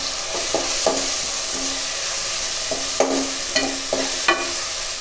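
Bottle gourd pieces in a curry are stirred in a frying pan, a steady sizzle with a few sharp spatula knocks and scrapes against the metal, alone and fairly close.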